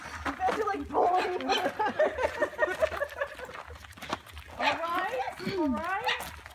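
Dogs whimper and yelp in excited, rising cries, close by and mixed with a crowd of people talking and laughing at a bachelorette party.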